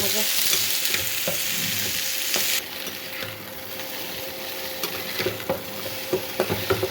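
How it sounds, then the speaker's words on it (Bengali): Pointed gourd (potol) frying in a pan, with a dense steady sizzle that drops in level partway through, then scattered stirring clicks and scrapes, close up with no voices. "ওদিকে আমার পটল ভাজতেছি"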